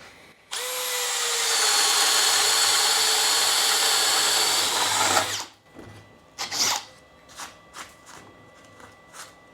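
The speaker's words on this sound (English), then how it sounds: "here's the Bosch 1-inch bit, and we're gonna see how clean of a hole it will cut" A drill fitted with a Bosch 1-inch spade bit bores into wood in one loud, sustained whirring burst of about five seconds, then stops, followed by several short knocks and clatters.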